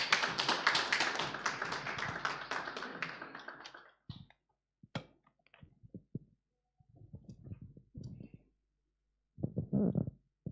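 Audience applause at a regional reproductive justice litigation gathering, a dense burst of clapping for about four seconds that dies away into a few scattered claps and faint murmuring.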